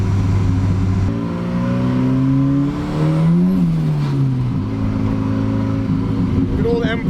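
A Volvo engine fitted with a Cummins Holset turbo revs hard toward 8000 RPM, a loud, close engine note climbing in pitch, dipping at a gear change, then settling into a lower drone.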